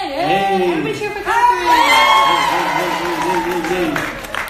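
A small group cheering and whooping with a few claps during an informal Instagram live chat, voices rising and overlapping in excited shouts, close and loud, with speech mixed in.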